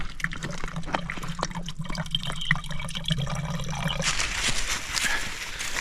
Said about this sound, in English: the water is dripping off that leaf. It takes about 10-15 minutes to fill the container up